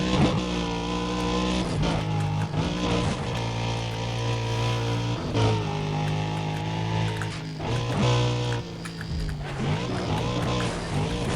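A car in Need for Speed: Undercover accelerates at top speed. Its loud, close engine whines through repeated rising revs broken by gear shifts, with steady road roar underneath.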